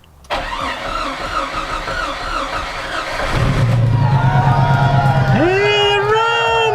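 Jeep YJ engine cranking, then catching and settling into a steady idle after a new fuel pump and fuel lines were installed, loud and close, with excited voices rising over the running engine near the end.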